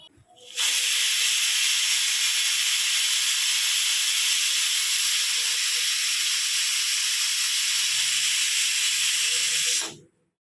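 A pressure cooker of dal vents steam in one loud, steady hiss that starts abruptly, holds without a break for about nine seconds, then cuts off sharply.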